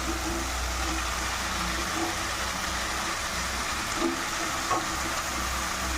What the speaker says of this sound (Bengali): এখন মশলাটা অনেক ভালো করে ভাজা হয়ে গেছে। এবার চিকেন দিয়ে দেবো।